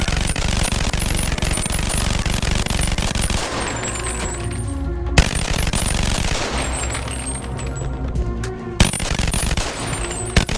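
A hyper Glock pistol in the VR game Bonelab fires in long, extremely rapid bursts, a loud continuous rattle broken by a few brief pauses and sharp clicks.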